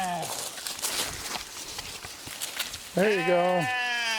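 Sheep on a homestead bleat, with one long, loud, wavering bleat close by near the end, after rustling movement and a short spoken phrase.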